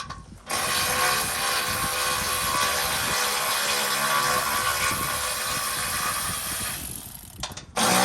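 A ratchet removes bolts from the front end of a Golf GTI, with one long, loud, continuous ratcheting whir close by that starts abruptly and cuts off near the end.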